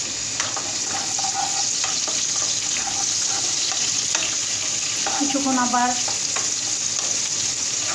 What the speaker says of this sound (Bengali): পেঁয়াজটা সামান্য পরিমাণ ভাজা হলে এর ভিতর আমি দিয়ে দেব সামান্য পরিমাণ টমেটো, স্বাদ বাড়ানোর জন্য।